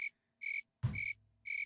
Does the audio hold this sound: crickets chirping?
yes